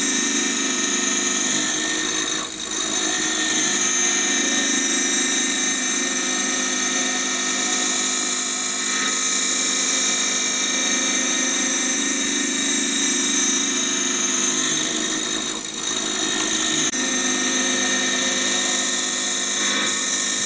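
A Prosharp AS 2001 hockey skate sharpener grinds a blade to an Ellipse zero profile, producing a continuous loud high whine with a steady mechanical hum and slight dips as the wheel passes along the blade.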